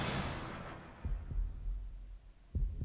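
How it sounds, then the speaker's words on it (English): Muffled heartbeat thumps pulse in the dark within the video game Shibuya Scramble 428, a few deep low beats spaced irregularly over a fading hiss. "I hear heartbeats."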